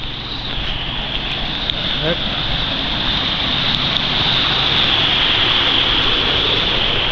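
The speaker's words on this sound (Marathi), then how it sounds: "एकदम जोरदार पाऊस पडतो आहे बघा" Heavy rain pours down outdoors in the Konkan countryside, a loud, continuous wash of noise with wind buffeting the microphone, steady from start to finish.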